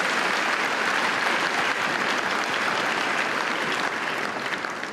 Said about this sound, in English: Let's give another round of applause to the Benediction choir.